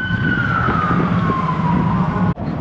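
A fire engine siren wails steadily in a town, sweeping slowly downward in pitch over a loud rumble of nearby traffic.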